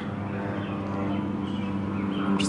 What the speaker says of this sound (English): And now there's an airplane